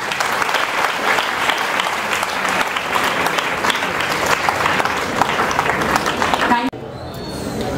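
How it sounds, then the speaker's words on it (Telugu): Students at an award ceremony for intermediate pupils applaud together in a hall, a dense, sustained burst of clapping that cuts off abruptly near the end, leaving quiet room tone. "పిల్లలు ఒకసారి ప్లీజ్ క్లాప్."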